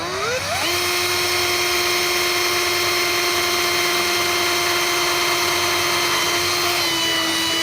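A power drill whirs up to speed and holds a loud, steady high-pitched whine, close by and alone, while drilling for a garden irrigation setup.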